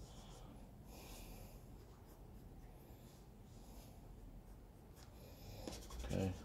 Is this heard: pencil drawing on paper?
yes